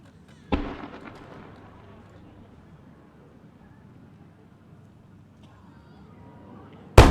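At the Sanriku fireworks festival, a sponsored firework bursts with one sharp boom that trails off into a long rumbling decay, followed by quieter ambience and a second loud blast at the end.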